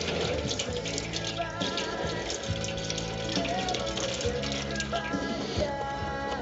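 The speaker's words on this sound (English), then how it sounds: "I'm just going to let the pan drop slowly as the excess fluid just is going to pour out" Transmission fluid gushes and splatters from a lowered pan on an automatic transaxle, a continuous close liquid pour with bubbling and dripping over a low background hum.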